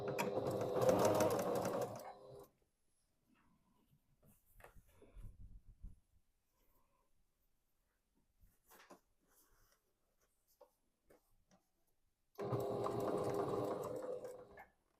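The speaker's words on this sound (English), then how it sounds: "for us to sew the piece of fabric onto the towel" A sewing machine stitches fabric onto a flour sack towel in two loud, close, whirring runs, one at the start and one at the end, with quiet handling of the cloth in between.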